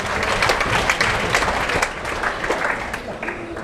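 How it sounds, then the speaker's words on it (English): Audience applause at a live comedy show at the Edinburgh Fringe, a steady dense wash of clapping from a crowd, loud and continuous throughout with a few sharper claps poking through. "Give a round of applause."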